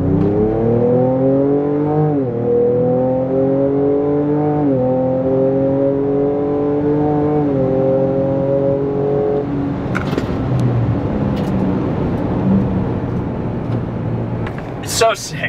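New Ford Ranger Raptor accelerating in Raptor mode, the engine climbing through several gear changes in rising sweeps before settling to a quieter cruise with cabin noise.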